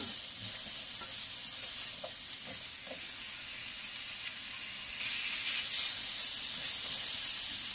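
Food sizzles steadily in a hot pan while it is stirred and moved around, giving a continuous bright hiss with soft scraping touches, close and moderately loud, with no talking.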